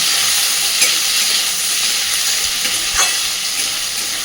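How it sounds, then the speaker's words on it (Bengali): Onions fry in a pan for dhaba-style chicken curry, giving a steady, fairly loud sizzle with a few soft stirring scrapes and no voices. "পেঁয়াজগুলো এবার সুন্দর করে ভেজে নেব।"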